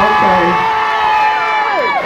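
A crowd at a Houston costume contest cheers and whoops loudly and continuously through the whole moment, a dense wash of many voices with some high shouts rising out of it.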